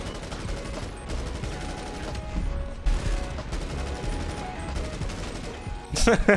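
Gunfire in GTA Online, with rapid bursts of automatic shots repeating over several seconds amid game noise and a louder burst near the end, with a voice speaking over it.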